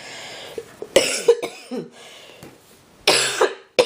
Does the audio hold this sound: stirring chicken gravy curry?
no